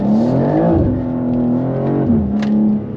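A BMW M2 G87 engine pulls hard on the autobahn, loud and close, its tone climbing through the rev range, dropping at a gear change, then climbing again.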